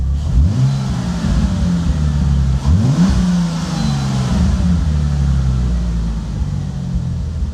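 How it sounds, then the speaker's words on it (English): A Bentley engine with a misfire fault revs repeatedly, its pitch rising and falling in short blips over a steady idle, loud and close with no talk. "I still can hear misfires."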